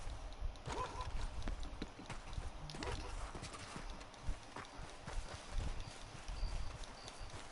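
Horse hooves clip-clopping in a PS4 video game, a steady walking rhythm of hoofbeats, moderately close, continuing for several seconds against quiet background game sounds.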